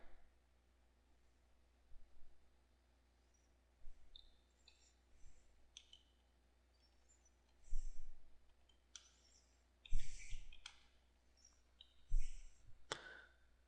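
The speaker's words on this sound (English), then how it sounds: "let's click over here, and then let's put our text in here" Computer mouse clicks while adding watermark text to an image, heard as sparse, sharp, close clicks spaced a couple of seconds apart over a faint, quiet background hum, with no talking.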